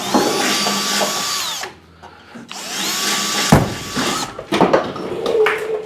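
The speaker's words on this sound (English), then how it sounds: "you know what size drill bit you're drilling with there?" A power drill with a 5 mm bit bores holes, whining up in two long steady runs split by a short pause, then breaking into shorter bursts with clicks and knocks, close and loud.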